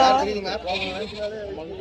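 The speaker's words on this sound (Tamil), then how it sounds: "குட்டி ஆட்டு குட்டிடா" A baby goat bleats at the Kunnathur livestock market, a short wavering cry at the start, mixed with nearby people talking over a busy background.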